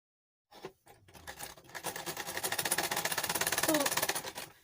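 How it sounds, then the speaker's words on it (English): Sewing machine running steadily while stitching a skirt waistband, a fast even mechanical patter that starts after a couple of short bursts and builds to a continuous rhythmic run. "I will sew it all the way to meet the middle where I've already sewn"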